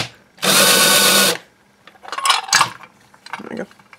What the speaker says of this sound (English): We've got a chamfering deburring tool thing. Well, actually, it's a countersinking bit,